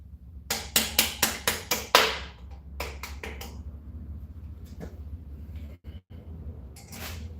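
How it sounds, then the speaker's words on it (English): Metal-on-metal hammer blows while a gear selector is being fitted: a quick series of about six sharp, close strikes, a pause, then a few more scattered hits, with no talking. "because it requires a hammer"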